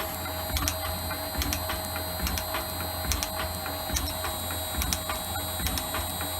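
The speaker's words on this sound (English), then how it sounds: "So the new motor's on, we're back up and running. A lot more noise out of the motor though." Metalworking shaper machine running on a new electric motor, a steady electrical hum with a faint high whine and light repetitive ticking and knocking from the mechanism, continuous at moderate level.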